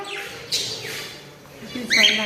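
Parrots chirping and squawking nearby in a few sharp, shrill bursts separated by short pauses.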